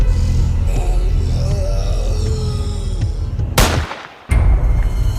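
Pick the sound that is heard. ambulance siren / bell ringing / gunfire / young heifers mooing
gunfire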